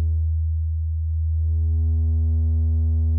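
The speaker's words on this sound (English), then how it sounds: "This distortion is known as soft clipping." A steady test tone with soft clipping distortion from a guitar effect running on an STM32 audio processor, a loud constant buzzy hum with rich harmonics that briefly dips, then holds steady alone.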